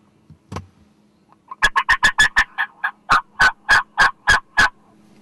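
Wild turkeys gobble outdoors in the southern woods, a quick burst of about seven rattling gobbles followed by a slower run of six more, loud and clear against a quiet background after a faint single call.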